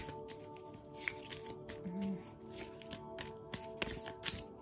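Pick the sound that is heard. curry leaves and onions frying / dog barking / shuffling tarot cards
shuffling tarot cards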